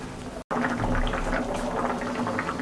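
Water boils steadily in a pot with taro cooking in it, a close, continuous bubbling after a split-second dropout near the start, with no talking.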